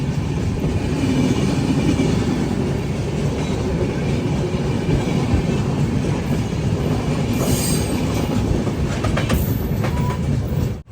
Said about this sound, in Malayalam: ആന്ധ്രാപ്രദേശിലെ ഈ ട്രെയിനിൻ്റെ ആദ്യത്തെ സ്റ്റോപ്പായ ഗുഡൂരിലേക്ക് ഇതാ ട്രെയിൻ എത്തിക്കൊണ്ടിരിക്കുകയാണ്